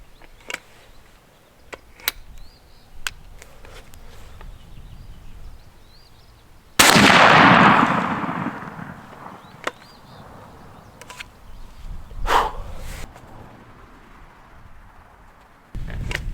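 One loud shotgun blast fired with Federal Grand Slam turkey loads at a target 20 yards away, a sharp boom with a short decaying tail, set among scattered faint clicks and outdoor quiet.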